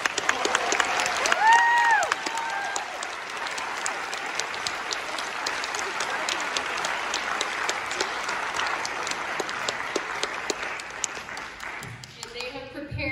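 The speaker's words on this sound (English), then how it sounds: "Let's have a round of applause for these guys." Audience applause fills a school auditorium after a high school winter concert by combined orchestras, steady dense clapping for about twelve seconds before fading out, with some crowd noise mixed in.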